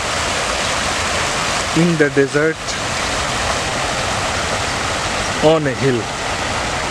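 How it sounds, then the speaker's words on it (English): Steady broadband rush of a man-made waterfall beside a hotel in the Qatar desert, continuous and fairly loud throughout, with someone speaking briefly over it twice. "nice waterfall"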